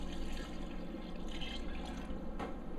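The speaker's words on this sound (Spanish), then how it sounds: "Le voy a poner aquí el agua hasta que lo tape" Water pours steadily into a cooking pot over chicken breasts for pozole verde, a continuous splashing, gurgling flow with no talking.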